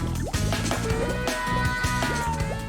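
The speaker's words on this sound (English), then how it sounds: "the gas starts to bubble out." Nitrous oxide gas bubbles up through a heated liquid in a lab-style setup, making close, wet, gurgling pops and drips in an uneven rhythm that keeps going throughout.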